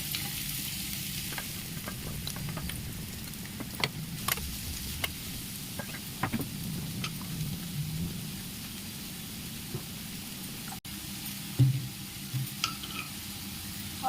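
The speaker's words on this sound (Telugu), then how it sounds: "ఆయిల్ హీట్ ఎక్కిన తర్వాత కట్ చేసుకున్న ఆనియన్స్ వేసుకున్నాం" Cut onions fry in hot oil for bobbarakaya curry, a steady close sizzle that runs throughout with occasional stirring knocks and scrapes, no talking.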